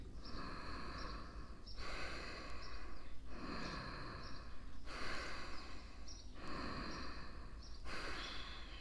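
Rapid Kundalini yoga breath of fire, strong rhythmic nasal puffs in repeated bursts of about a second or two, with brief lulls between rounds, close and fairly loud with no talking.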